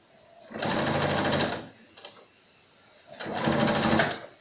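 Sewing machine stitching elastic onto a pleated fabric face mask, two close loud bursts of rapid mechanical whirring separated by a short pause with a few faint clicks.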